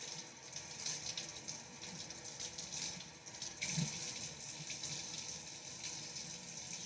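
Tap water runs steadily from a faucet while a tuna can is rinsed out by hand, a constant close splashing rush with slight shifts as the can moves under the stream.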